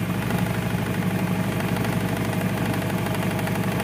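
A Honda Vario 110 motorcycle engine idles steadily nearby with an even, rapid low knocking throb and faint vibration, with no talk over it.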